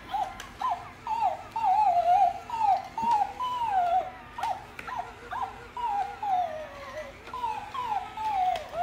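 A small black toy puppy gives repeated high, wavering whimpers and yips in short bursts, close and fairly steady across the stretch, with no talk over it.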